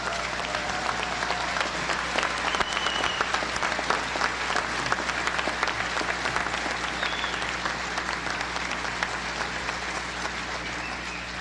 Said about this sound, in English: Don't you think you should stand up and give your parents and relatives a big round of applause